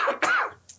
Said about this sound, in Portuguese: de manhã a gente fica meio nariz escorrendo e a tosse vindo